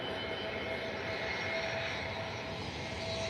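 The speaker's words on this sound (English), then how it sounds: "Here comes an easyJet from London Gatwick," An easyJet Airbus A320neo from London Gatwick comes in to land at Faro, a steady, fairly faint engine roar with a thin whine, holding even throughout and no talk over it.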